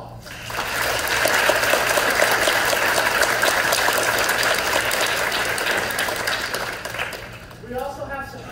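A theater audience applauds its supporters before a community production of The Addams Family musical: a dense, steady wash of clapping that swells quickly, holds for several seconds, then thins out near the end.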